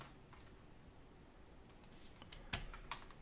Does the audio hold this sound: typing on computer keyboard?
yes